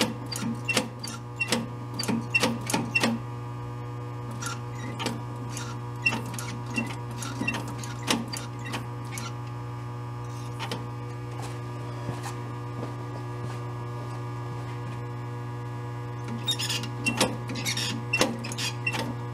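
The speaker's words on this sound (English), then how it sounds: "I have the fuel pump on right now." An electric fuel pump on a 1967 VW Bug with a big-bore 2387cc engine runs steadily, giving a constant low mechanical hum under a quick series of sharp clicking ticks that come in bursts, close and moderately loud.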